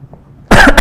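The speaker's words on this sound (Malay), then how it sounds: "Nak terbatuk banyak orang ni." One sharp, loud, close cough from a person indoors in a talk setting, a brief double burst after a quiet pause.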